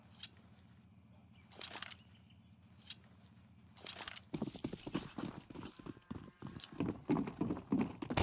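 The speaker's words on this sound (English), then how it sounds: "We even hear the horses in the background" Horse hooves clip-clop as several sharp, distinct taps in the background of a DraculaN esports match broadcast, followed by busier overlapping clatter and noise.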